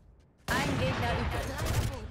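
Rapid gunfire bursts from the tactical shooter Valorant, loud and dense after a quiet start, continuing steadily with voice chatter mixed underneath.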